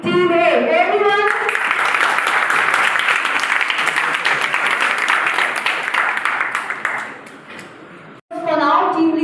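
Audience clapping at a college startup pitch event, a dense burst of applause that fades out, with a speaker's voice before and after.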